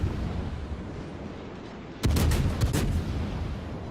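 Warship main battery guns firing in World of Warships during a battle against a Hindenburg cruiser, heard as a loud burst of several booming shots in quick succession after a quieter stretch of ambient rumble.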